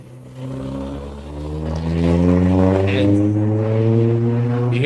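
Car engines rumble steadily from outside, a low droning hum that swells louder partway through and holds, with no talk over it.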